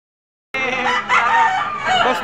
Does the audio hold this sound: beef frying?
no